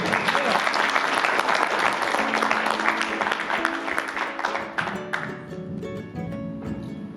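Audience applause welcoming Mayor Ed Reece onto the stage at an ADU summit, a loud, dense round of clapping from a large crowd that holds steady and then gradually thins, with some voices mixed in.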